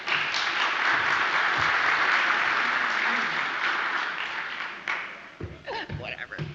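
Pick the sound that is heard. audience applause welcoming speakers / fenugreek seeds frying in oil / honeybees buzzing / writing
audience applause welcoming speakers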